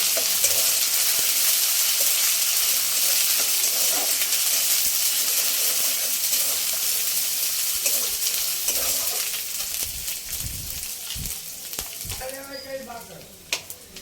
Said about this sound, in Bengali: আদা রসুন থেকে কাঁচা গন্ধ যাওয়া পর্যন্ত ভেজে নিতে হবে